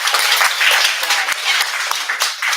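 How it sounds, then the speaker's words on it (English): Guests at a celebration give Jane a lively round of applause, brisk, close clapping from a small crowd that stays even and continuous for a couple of seconds. "Can we have a round of applause for Jane?"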